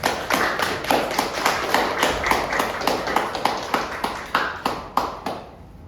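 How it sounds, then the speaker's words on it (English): Audience applause for a speaker at a Toastmasters club speech contest meeting: a steady round of clapping from a modest crowd in a room, the claps distinct and rhythmic at moderate loudness, thinning out and fading toward the end. "please help me help him with the big round of applause for Toastmaster Hussain"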